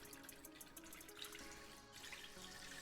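Liquid poured into a big lidless cooking pot in a home kitchen, a steady splashing trickle, faint and close, without talk.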